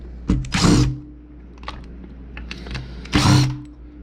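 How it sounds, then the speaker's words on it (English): Phillips screws being undone on an Echo weed eater: two loud bursts of whirring, ratcheting driver noise, a second apart at first and again near the end, with small scattered clicks and taps in between, close up. "it's just 4 Phillips screws to get this open"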